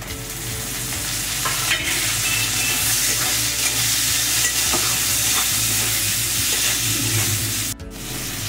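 Chopped tomatoes go into a pan of fried onions for a spicy Rupchanda (pomfret) fish curry, giving a loud, steady sizzle with repeated stirring scrapes and clicks close by, and no talking.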